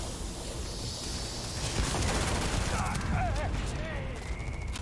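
Gunfire in the video game Starfield, rapid bursts of shots over a dense noisy mix with whooshing synthetic effects, while a voice talks over it.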